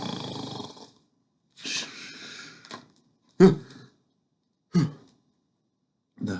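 A voice imitates snoring with several slow, drawn-out breaths and snorts, separated by pauses of silence.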